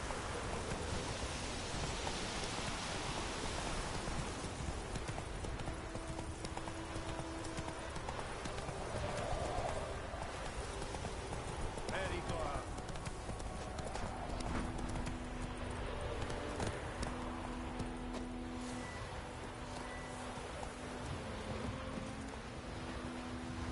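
Hoofbeats of Geralt's horse Roach galloping in The Witcher 3 video game, a steady clip-clop rhythm running throughout over continuous ambient wind and rain-like noise, with no talk.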